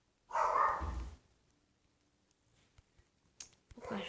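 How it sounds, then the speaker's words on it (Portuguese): A pet dog barks in a Minecraft-style survival game, a burst of loud bark-like sound up front, then quiet ticks and clicks and another bark-like burst at the end. "O cachorro tá latindo aqui, meu cachorro."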